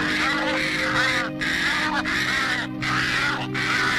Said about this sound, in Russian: На магнитной ленте записан крик, издаваемый скворцами в минуту опасности.